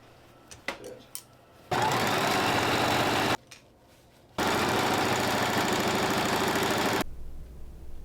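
Sewing machine stitching fabric triangles for a garland, two long loud continuous runs of rapid stitching separated by brief pauses and handling noises, then a lower hum at the end.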